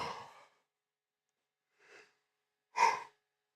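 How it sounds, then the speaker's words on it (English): A single person yawns and breathes heavily: a long breathy exhale at the start, a softer breath after a pause, then a louder, drawn-out gasping yawn, each sound alone with silence between. "Don't know why the hell I'm yawning so much."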